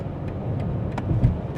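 A 2026 BMW M5 cruises at highway speed in hybrid mode, giving a steady, subdued low rumble of road and drivetrain noise from inside the car, with no talking.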